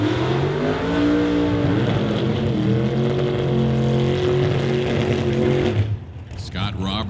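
Two drag cars, a 1994 Beretta and a big blue 1962 Bel Air, launch at a drag strip with a loud, sustained engine roar that holds steady, then thins and drops away near the end.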